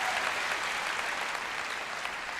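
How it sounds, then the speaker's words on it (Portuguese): A church congregation applauds during a morning worship service, steady dense clapping filling the room at even loudness throughout with no voices over it. "Dê uma salva de palmas"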